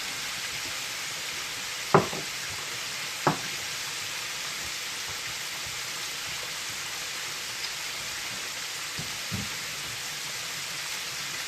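Chicken deep frying in hot oil gives a steady, moderately loud hiss and crackle throughout, with a couple of brief louder pops near the start and no talking.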